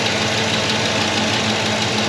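A Chevrolet Silverado engine idles steadily and smoothly up close, a continuous even hum with no misfire or shaking, and no one speaks.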